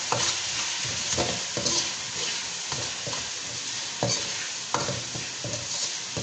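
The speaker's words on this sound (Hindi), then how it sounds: "तो यहाँ हम इसको थोड़ा सा भूनेंगे।" Spices frying with turmeric and salt in a pan for aloo matar curry, a continuous close sizzle broken by repeated scraping stir strokes at an uneven pace, with no talking.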